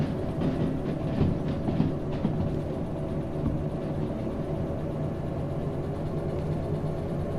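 A locomotive hauling freight cars rolls along the track in the train simulator Derail Valley, giving a steady low rumble with rhythmic clacking and rattling wagon noise throughout and no voices.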